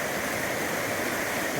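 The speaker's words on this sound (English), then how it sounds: "this is Laughing Falls" Laughing Falls in Yoho National Park gives a steady, moderate rush of falling water, continuous and somewhat distant-sounding, with no voices over it.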